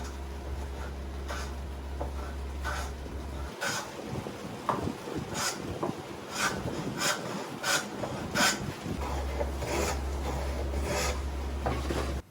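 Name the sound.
homemade wooden grooving plane cutting a dado in wood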